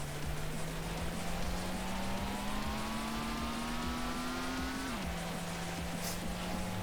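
A car with a 1.8-liter engine in the Need for Speed High Stakes racing game: a steady engine drone climbs slowly in pitch as it accelerates, then drops sharply at a gear change and carries on, with no talking.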